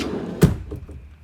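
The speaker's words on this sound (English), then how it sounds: "You've got a barn style door that closes off" A barn-style sliding door in a 2021 Alliance Paradigm 370FB fifth-wheel RV closes with a single solid thunk, close and fairly loud, followed by faint rattling that fades out.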